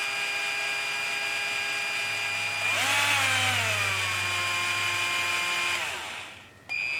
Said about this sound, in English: I can actually run it with a drill, which will be simulating more of a engine running.